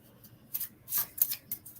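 A deck of cards being shuffled during a tabletop card game at home, with a few quick soft riffling bursts of papery rustle, close but fairly quiet, with no talking over it.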